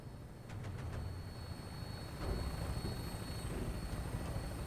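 A helicopter in the video game Fallout 4 hovers overhead with a steady droning rotor wash that swells slightly partway through, a continuous noisy hum with no talking.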